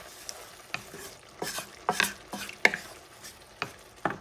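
Smoked paprika stirred into a sizzling pan for shrimp and crab stuffed squash: a steady quiet sizzle broken by about eight distinct scraping stir strokes, close and fairly loud, with no speech.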